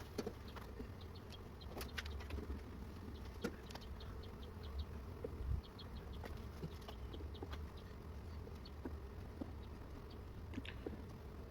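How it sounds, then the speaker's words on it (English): A steady low hum of many honeybees buzzing close by in an open hive, with scattered ticks and light tapping sounds throughout, no voices. "There were only about 8 or 10 bees, you see there, above the queen excluder."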